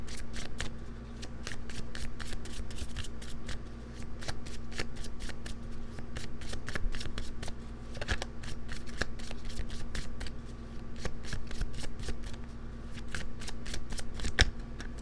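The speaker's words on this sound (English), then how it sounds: "let's cut the deck and see what we have for you" A tarot card deck shuffled over and over, a rapid riffling patter of cards that stays close and steady for the whole stretch, with no voice.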